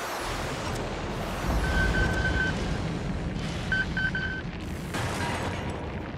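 Ordnance explosions in the video game Helldivers rumble as a sustained low boom beneath game voice callouts and soft beeping tones, with the rolling blast energy swelling around the middle of the stretch.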